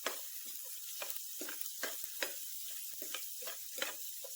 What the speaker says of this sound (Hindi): इसको भी हम सौटे कर लेंगे